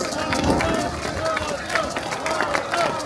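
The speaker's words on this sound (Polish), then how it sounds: "brawa" Crowd applause at a political rally in Warsaw in 2025: a dense, steady roar of clapping from a large outdoor gathering, with a speaker's amplified voice over it.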